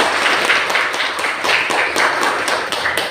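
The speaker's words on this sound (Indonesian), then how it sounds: "Benar sekali, tepuk tangan." A class breaks into applause, a dense burst of many hands clapping in quick rhythm that holds steady for a few seconds, loud and close, with no voices over it.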